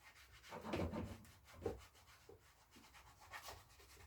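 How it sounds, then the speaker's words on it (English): Soft, faint rubbing of a clean microfiber towel buffing treatment into the matte paint of a Kawasaki Vulcan S650 motorcycle, a few swishing strokes rising and falling close by with no talking. "it's just a matter of buffing that in. Working it all in the nooks and crannies"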